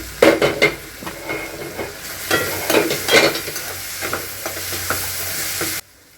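Vegetables fry in a pan, giving a loud, close, steady sizzle with irregular scrapes and clinks of a stirring spoon, before the sound cuts off abruptly near the end.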